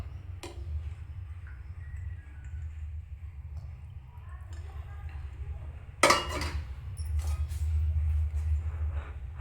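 Stirring mutton curry in a pot, a few soft scraping clinks of a spoon against the metal over a low steady stove hum, with a sharper clatter partway through.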